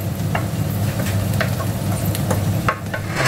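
Tofu sisig with spring onion gets stirred in a hot pan, a steady sizzle running throughout with a few soft scraping strokes of the spoon close by.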